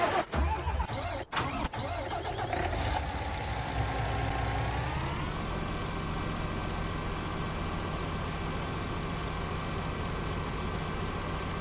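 Truck engine in Farming Simulator 19 cranking with clicks, catching, then revving up and settling into a steady mid-pitched idle, close and clear with no talking.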